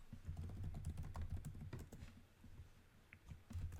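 Fingers type a search into Google on a computer keyboard, producing quick, irregular bursts of key clicks over a low background hum, close but faint, with no one speaking.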